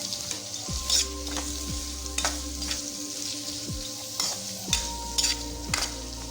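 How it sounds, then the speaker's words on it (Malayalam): Chopped onions fry with ginger, garlic and green chillies for a chickpea kadala curry, a steady close sizzle cut by rhythmic spoon scrapes and clinks against the pan roughly every second, with no speech. "അരിഞ്ഞു വെച്ചേക്കുന്ന സവാള രണ്ടും കൂടെ ചേർത്ത് നല്ലപോലെ ഇളക്കിയെടുക്കാമേ"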